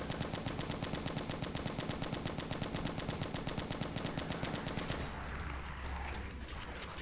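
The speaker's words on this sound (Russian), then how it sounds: "Я для этого и переключился на автомат." Automatic rifle fire in the zombie shooter Left to Survive: a loud, rapid continuous burst of evenly spaced shots for about five seconds, then the firing stops and a lower rumble remains.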